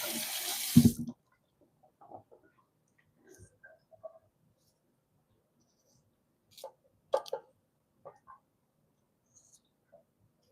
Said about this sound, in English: Wash my garlic now.